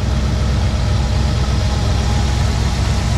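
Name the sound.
1969 Ford Bronco engine idling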